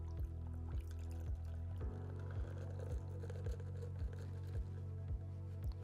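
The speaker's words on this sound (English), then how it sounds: "take my strainer, and then pour it over the glass" A cocktail is strained and poured into a glass, with soft liquid trickles and a series of regular, close dripping taps repeating steadily in a quiet room.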